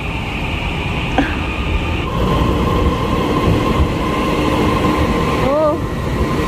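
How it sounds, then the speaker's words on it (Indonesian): Steady rumble of a train rolling past with a whining tone and rail noise, continuous and close, ending with a rising squeal. "itu kereta sana itu yang putih itu baru"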